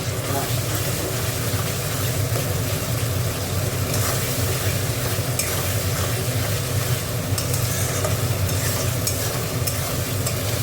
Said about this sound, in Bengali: আদা রসুনটা একটু কষে নিয়ে নুন দিয়ে দিচ্ছি।